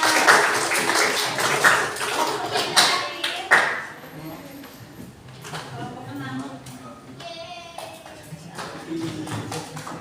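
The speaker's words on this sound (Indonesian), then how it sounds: "Dengan tepuk tangannya." Audience applause in a classroom at SMA 8 Yogyakarta after a teaching-practice session, a dense burst of clapping over the first few seconds that fades into scattered taps while people talk.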